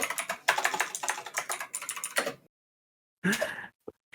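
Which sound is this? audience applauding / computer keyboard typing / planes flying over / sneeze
computer keyboard typing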